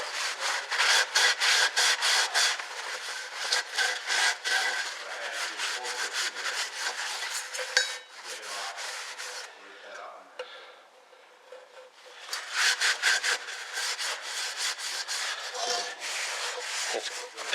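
Scrubbing and rubbing crud out of the oil bath air cleaner on a 1966 Chevrolet C10, a steady, close abrasive scraping that runs in bursts with a quieter pause in the middle.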